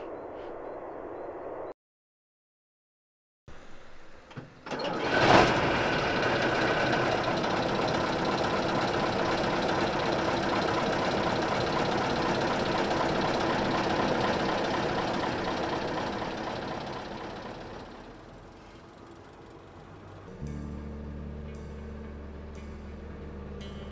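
A Tatra truck engine idles steadily and alone, a low continuous rumble that runs for most of the stretch after a brief silent gap, dips and eases near the end, then gives way to a different low hum.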